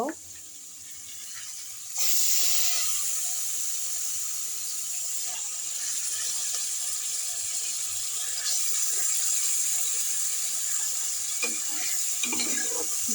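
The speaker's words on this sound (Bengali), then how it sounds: "কলিজাটাকে ভালো করে ধুয়ে নিয়েছি এখন আমি কড়াইতে দিয়ে দিব" Washed beef liver dropped into a hot kadai with cloves and cinnamon gives a sudden steady loud sizzle that holds without letting up, with faint clinks near the end and no talking.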